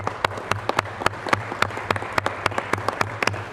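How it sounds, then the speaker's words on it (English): People at a city council meeting applaud city department employees. A small group claps sharp, distinct beats in a steady rhythm over a low hum of room noise. "let's give them a round of applause"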